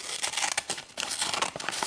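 Scissors cutting through a paper supermarket brochure, a close, quiet run of crisp crinkling and snipping paper sounds with a brief pause partway through.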